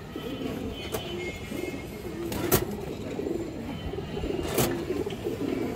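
Pigeons kept at a home loft coo in soft, repeated throaty phrases, close by and moderate in level, with a few sharp clicks or taps and faint background noise between the calls.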